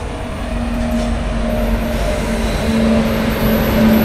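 The Howrah–Puri Shatabdi Express passes nearby, a loud, steady rumble of carriages and wheels on rails with a sustained tonal hum running throughout.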